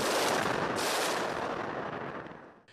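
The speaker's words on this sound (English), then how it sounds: "Artillery and airstrikes continue to bombard Ukraine, including here in Irpin, outside of Kyiv" A heavy, rumbling blast of artillery fire or an airstrike in Irpin outside Kyiv, Ukraine, a loud sustained roar that slowly fades over a couple of seconds.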